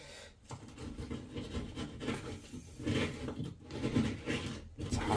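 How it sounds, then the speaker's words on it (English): The small saw blade of a Leatherman Wave multi-tool cutting a hole during work on a blocked drain, a close rhythmic rasping back-and-forth with short pauses between strokes. "Leatherman wave, little saw, handy for doing little jobs like this"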